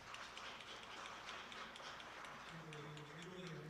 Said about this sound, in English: Please send them a round of applause.